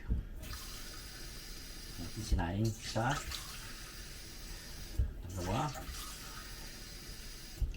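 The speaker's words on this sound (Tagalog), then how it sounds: "Lagyan natin ng tubig." Tap water runs into a pot of washed rice in a home kitchen, flowing in two short bursts between quieter stretches, while a person talks over it.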